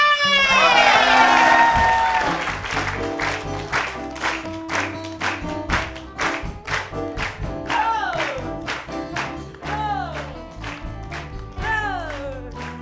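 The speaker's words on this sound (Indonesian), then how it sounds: "Tepuk tangan untuk Neng." A studio audience at an Indonesian comedy variety show claps in quick rhythmic bursts and cheers, with shouting and loud voices mixed over the clapping throughout.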